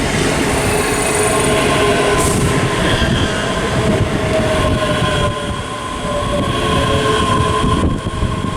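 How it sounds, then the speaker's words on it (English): ScotRail class 385 unit 385004, the 16:05 service from Glasgow Central via Shotts, pulls into Haymarket station in Edinburgh, loud and close, with a rolling rumble, wheel squeal and faint clicking of wheels over rail joints. "arriving now is the 1605 ScotRail service from Glasgow Central via Shotts to Edinburgh"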